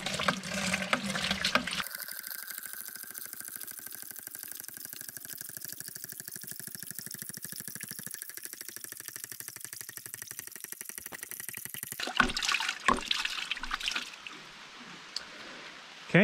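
Steady rushing discharge of water from a ram pump's waste valve, a continuous close splashing flow that runs for most of the time before stopping, with a faint rhythmic pulsing underneath.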